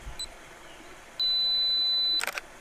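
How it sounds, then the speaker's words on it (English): A Fuji XT2 camera's two-second self-timer gives a short beep, then one steady high tone for about a second, followed by a quick burst of shutter clicks, close and clear in a quiet setting. "2-second timer, so you don't get any camera shake."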